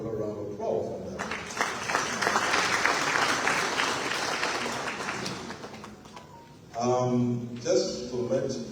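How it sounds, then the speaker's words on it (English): An audience at the opening of the Mano River Union, a formal summit where the President gave the keynote, breaks into loud, sustained applause lasting several seconds, with a speaker's voice heard before it and again as the clapping fades. "we need to give another round of applause for that"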